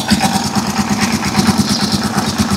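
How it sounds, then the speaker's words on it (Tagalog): A Rusi Chariot 175 motorcycle engine, filled with thick oil, idles close by with a steady rapid pulsing putter and a buzzing mechanical rattle. "medyo tumining na yung makina natin"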